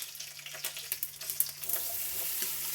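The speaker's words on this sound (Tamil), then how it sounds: "இந்த கருவேப்பிலையை சேர்த்துக்கலாங்க." Fresh curry leaves crackle and sizzle in hot oil with mustard seeds, a steady bright hiss dotted with sharp pops and spatters, fairly close, with no voices.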